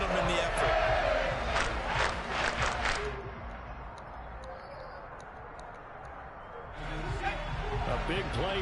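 A football stadium crowd roars loudly and steadily before a third-and-goal play. The noise dips for a few seconds, then swells again, and a commentator speaks over it.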